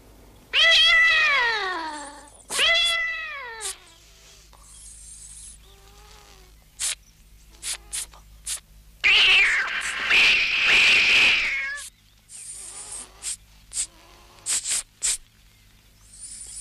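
A cat meows loudly several times in drawn-out, wavering cries, then a harsher, strained yowl, followed by quieter scattered clicks and small noises.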